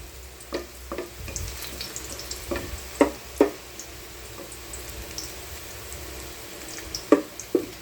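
Garlic frying in a pan while cooking a monggo, jackfruit and pork hock dish, with a low steady sizzle broken by scattered clinks and scrapes of stirring, fairly quiet and with no talking.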